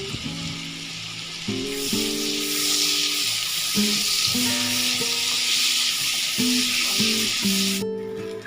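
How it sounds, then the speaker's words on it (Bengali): Onions and a few green chillies sizzle steadily in hot oil, a continuous close hiss, while tonal music plays in the background; nobody speaks. "পেঁয়াজটাকে আমি একটু লাল করে ভেজে নেব"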